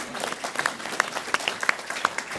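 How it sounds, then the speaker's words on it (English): Applause from an audience at a Chicago Public Schools forum: a small group claps steadily at moderate distance, with sharper individual claps standing out over the patter. "Okay, round of applause."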